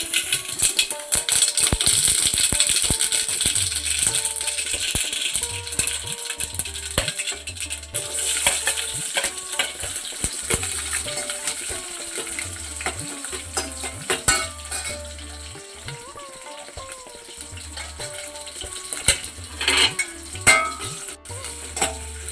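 Mustard seeds spluttering in hot oil for a Kannada hotel-style pajji sambar tempering, loud dense crackling and popping up close, easing into a softer sizzle with occasional utensil clinks and stirring scrapes.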